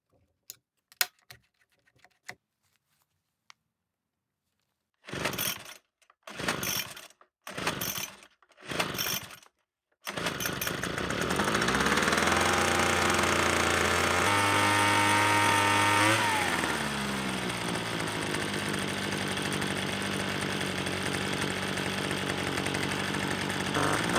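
A repaired leaf blower engine: after a few clicks, four short pull-start attempts, then the small two-stroke engine catches and runs loud and close, revving before settling to an idle.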